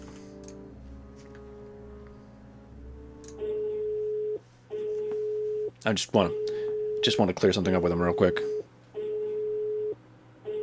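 A telephone busy signal in the Rusty Lake Hotel video game beeps in steady, evenly spaced tones, repeating under a man's speech that interrupts partway through.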